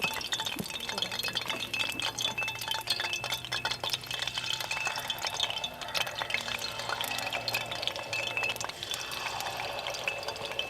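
Unniyappam batter being poured into the oil-filled hollows of an appam pan, the oil not yet fully hot, giving steady bubbling, fizzing and liquid pouring sounds with light metallic clinks throughout, close and continuous.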